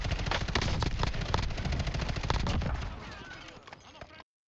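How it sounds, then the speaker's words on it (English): Rapid automatic bursts from the FJX Horus SMG in Modern Warfare III, a dense sustained stream of close, loud gunfire that trails off into fading echoes before cutting to silence. "The FJX Horus SMG from MW3"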